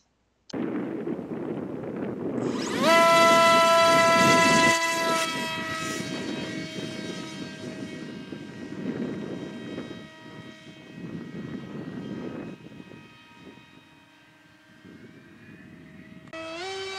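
A ReadyMadeRC Mako Wing radio-controlled flying wing whines overhead, its steady, loud electric motor and propeller tone holding through the pass, then fading and rising again as it circles.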